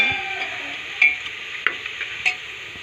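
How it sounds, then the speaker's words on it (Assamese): A spoon stirs food frying in hot oil in a pan, a steady sizzle broken by a few sharp scrapes and clinks. No one speaks. "যেতিয়ালৈ ৰঙচুৱা তেল দি লাৰি থাকিব যাতে তলত লাগি নাযায়"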